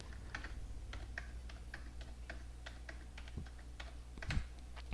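Numbers are typed on a computer keyboard as a steady run of close key clicks over a constant hum, with no voice.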